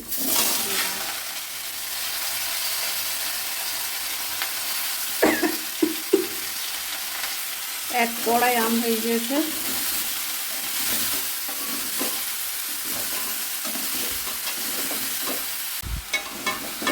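Mango pieces and fried chillies sizzle steadily in a karahi of hot oil for Bengali sweet-sour jelly pickle, with occasional scrapes of stirring and someone speaking briefly over the frying.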